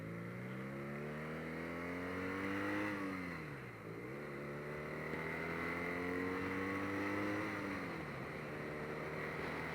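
A 2018 BMW R nineT naked motorcycle on a test ride, its engine droning loud and steady as the revs climb, drop sharply at a gear change, then climb again, with constant wind noise around it.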